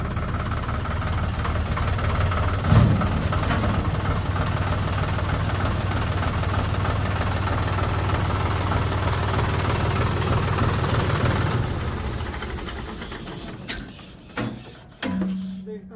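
A heavy tractor engine idles close by with a steady low throb for about twelve seconds, then cuts away, leaving quieter clatter and brief voices.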